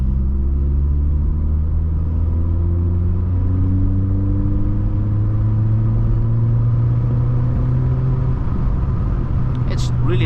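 An atmospheric 1.4-litre Volkswagen Polo engine drones steadily as it pulls through third gear, a low rising hum carried throughout with someone talking over it from inside the car.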